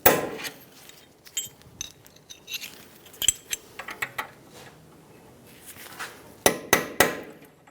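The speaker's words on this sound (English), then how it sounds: "Using a punch, I'm going to punch out the pieces of the cotter pin." Sharp metallic hammer strikes on a punch knock out cotter pin pieces from a 2010-2014 Subaru Outback front suspension knuckle, coming in irregular bursts of single and clustered clinks, a few loud closely spaced blows near the end.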